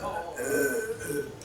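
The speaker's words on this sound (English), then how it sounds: "The loudest burp." A long, loud burp from a teenager during a backyard burping contest, a rough, drawn-out croak lasting about a second at close range, with voices of other contestants around it.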